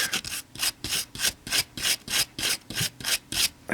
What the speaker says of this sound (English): Let me see if I can get some of the rust off that